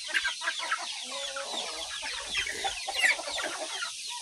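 Native Brahma chickens clucking and squawking on a farm, a busy, steady chorus of overlapping calls that is fairly loud and close, with no talk.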